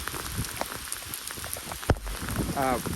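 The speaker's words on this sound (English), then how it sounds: "because of how bad it's raining" Heavy rain pours down during a lawn care job, a dense, steady hiss of drops with scattered louder splatters and a brief thump, and a voice is heard faintly toward the end.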